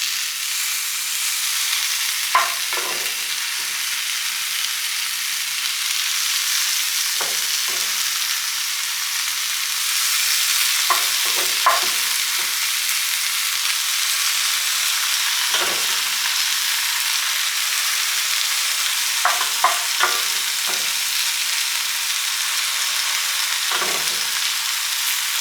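Ground beef sizzling in a pot on low heat for a potato casserole, a steady close hiss of frying broken by occasional scraping clicks from stirring, with no talk.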